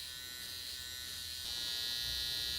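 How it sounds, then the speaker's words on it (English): An electric beard trimmer buzzes close up as it cuts a line into a beard, holding a steady high hum that grows a little louder partway through. "We're going to use our trimmer inverted to punch a line in"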